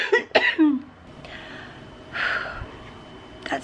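Two quick harsh coughs up close, followed by a breathy exhale and a faint throat sound a moment later.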